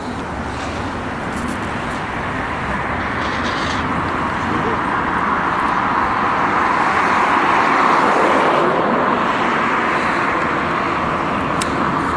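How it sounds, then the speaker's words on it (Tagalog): Road traffic passing a roadside spot, a steady broadband rumble and hiss of cars swelling slightly as vehicles go by, continuous throughout with no clear talk on top. "Nagdadaan ng sasakyan."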